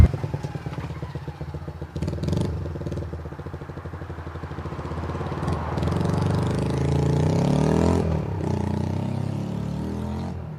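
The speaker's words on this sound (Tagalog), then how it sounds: "Eh di yung motor ng tricycle." A tricycle motorcycle engine runs steadily and close by, a low chugging drone with some rattling clatter that keeps going throughout and grows slightly louder toward the end.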